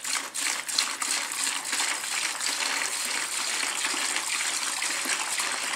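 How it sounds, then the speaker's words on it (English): Cleaning wash poured into a bucket holding paint gun parts (needle and gun body) gives a steady, close splashing gush of liquid. It runs continuously for several seconds with no talk. "I take the wash and I just pour the whole thing in there."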